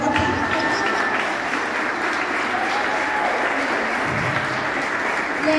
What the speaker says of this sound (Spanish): Dame un aplauso, por favor.